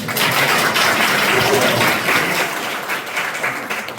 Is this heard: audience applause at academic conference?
yes